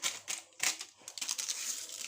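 A Dream yeast packet crinkled by hand while making pizza dough at home, a few sharp crackling bursts of thin foil-like packaging, close and fairly quiet.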